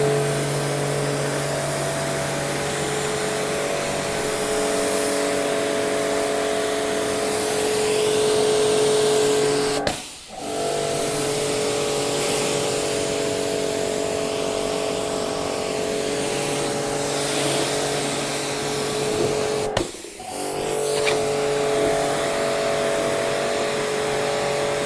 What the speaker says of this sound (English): Now we're just going to spray a bit of water over this